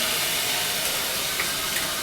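Water poured onto a hot grill while cooking lamb sausages hisses into steam, a loud, dense, continuous sizzling wash with no pauses.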